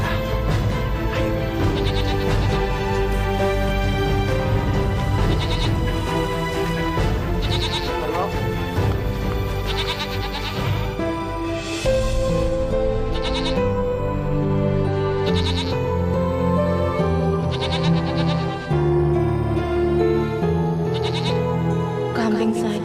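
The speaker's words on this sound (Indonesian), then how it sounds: "Sekarang kita gembalakan kambing dulu ya." Goats bleating repeatedly while being herded, several loud, close calls overlapping one another over a continuous bed of background sound throughout.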